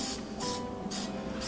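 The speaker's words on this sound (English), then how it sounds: "I'm going to spray some of the accelerator on that" Accelerator sprayed onto Starbond glue while building an acoustic electric Tele-style guitar: three short, loud hissing spray bursts in quick succession, each under half a second, close to the mic.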